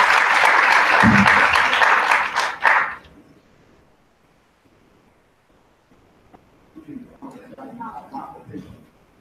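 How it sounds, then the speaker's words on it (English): Audience applause at a teacher professional development session, a loud burst of clapping lasting about three seconds before it fades, followed by quieter talking. "Give a round of applause"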